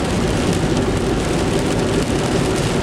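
Heavy rain falling while on the road, a loud, steady wash of broadband noise that continues unbroken throughout with no voices.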